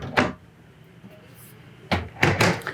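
Bedroom entry door with a deadbolt in a 2021 Forest River Cherokee 306MM travel trailer, heard as one sharp latch clunk, a quiet pause, then several close thuds and rattles as the door is worked again.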